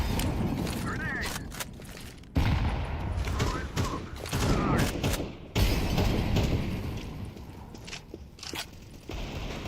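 Gunfire and a grenade blast in a video game: rapid bursts of shots and sharp cracks repeat throughout, with sudden loud booming impacts near the start and middle, all close and dense.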